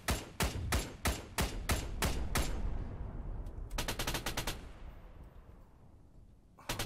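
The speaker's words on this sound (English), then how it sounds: "All I got is machine gun rounds." Sustained machine gun fire in ARMA 3, sharp rapid bursts crackling close and loud, then a pause and a second quicker burst of rounds further into the stretch, with no talking.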